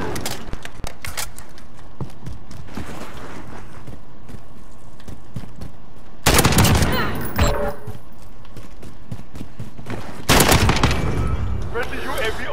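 Bursts of automatic gunfire from a shooter game set in modern warfare, loud rapid volleys in two clusters over continuous game noise, with people talking throughout.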